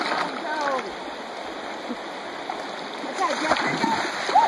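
Cold water splashing and pouring during a cold water challenge, a continuous splattering wash with a few brief louder bursts near the end, heard alongside background voices.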